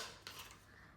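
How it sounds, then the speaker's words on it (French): A spoon stirring an instant pasta cup filled with water, giving a short close scrape and clink against the cup with a sharper knock near the start, heard alone. "Add water to fill lime in cup, stir."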